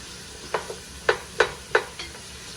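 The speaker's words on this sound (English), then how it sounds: "So we're gonna saute these down for about 2 minutes or so" Onions, celery and herbs sautéing in a soup pot for Bahamian peas soup, a soft sizzle under about five sharp spoon knocks and scrapes spaced roughly half a second apart.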